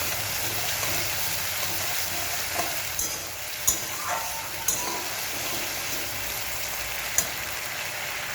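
Water goes into a hot pan of sauce for an egg chilli dish, a steady sizzle and frying hiss with utensil scrapes and a few sharp clinks as it is stirred.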